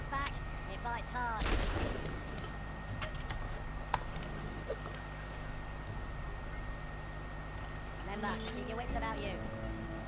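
A muffled explosion in the game Worms W.M.D booms early on, followed by scattered sharp effects and a steady low hum, with a voice speaking over it.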